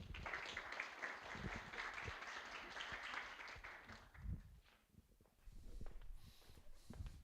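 Audience applause at an IT and AI skills conference as an innovation manager from K Digital Italy is introduced, a sustained crowd clapping that fades out after about four seconds, followed by scattered footsteps and room noise.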